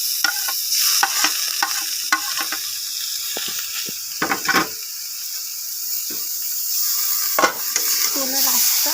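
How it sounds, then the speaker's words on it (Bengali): Spice pastes of dried chilli, tomato, garlic and ginger with cumin and onion stirred in hot oil for a jackfruit curry, sizzling steadily under repeated scraping stir strokes at close range, with no talking. "ভালো করে নাড়িয়ে করে মিশিয়ে নিতে হবে।"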